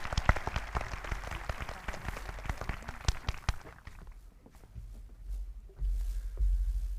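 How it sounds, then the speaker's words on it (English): Applause from a high school graduation audience, a dense patter of many hands clapping that swells and then thins out before a low rumble of the crowd settling. "Please join me in a round of applause for these important people."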